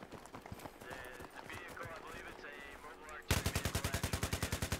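A player fires in the shooter game Battlefield 3. Mixed game sounds and a voice come first, then rapid automatic gunfire takes over in a loud, even burst of repeated shots.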